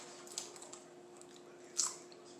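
Crisp bites into a homemade potato chip, two distinct crunches standing out over a soft chewing background, close and fairly quiet.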